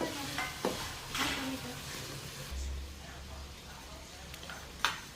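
Tomatoes and onion frying in a pan in a Gujarati village kitchen: a soft, steady sizzle with occasional stirring scrapes and clinks, faint voices in the background.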